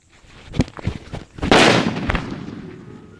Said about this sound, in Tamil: நாட்டு வெடியில் கால் கிலோ பேப்பர் பாம்பு மிரட்டல் அடி எடுத்துருக்குறாங்க